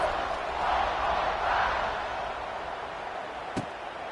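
Stadium crowd noise in the video game College Football 26, a broad steady roar swelling and easing during a kickoff, with a brief thud near the end.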